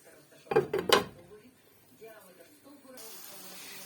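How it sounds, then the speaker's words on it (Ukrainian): A metal lid clatters onto a frying pan of pancakes in a few quick clanks, followed by a soft sizzling hiss that grows steadier. "Прикриваємо кришкою трохи, щоб прожарувалось краще."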